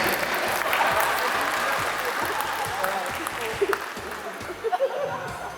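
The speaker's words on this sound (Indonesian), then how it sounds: "Tepuk tangan dulu." Audience applause at a Cap Go Meh celebration, a dense crowd clapping steadily with some chuckling and murmured voices mixed in, fairly loud and close.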